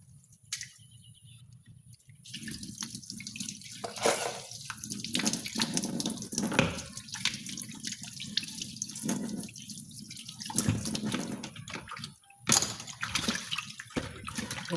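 Hot water is poured at close range while grilling chicken, a continuous splashing, trickling stream with some drips that swells and fades over several seconds.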